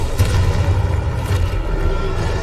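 A sustained, rumbling blast from the Confringo fire spell in the video game Hogwarts Legacy, with dense low booming and crackle that stays loud throughout, no voices heard.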